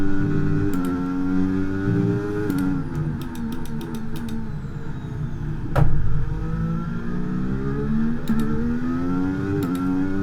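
Formula 1 car engine in the racing game F1 23, heard as continuous loud high-pitched revving that rises and falls through gear changes, with a sharp burst midway, and no talk.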